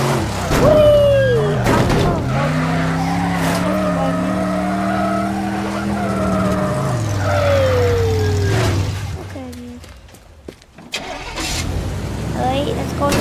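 A car drifting in the video game Teardown, engine droning and sliding with changing pitch and tire squeal, loud and continuous before a brief drop and crash-like thumps, with a player talking.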